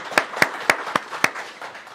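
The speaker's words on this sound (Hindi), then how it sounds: "तालियों में जाके स्वागत करिए राहुल, तालियों में जाके स्वागत करिए भाई" Sparse, separate hand claps ring out at a steady, slow rhythm, about five sharp claps in two seconds, as a guest is welcomed during a cricket pre-match IPL show.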